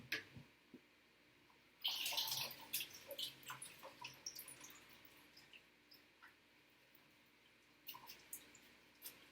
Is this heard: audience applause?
no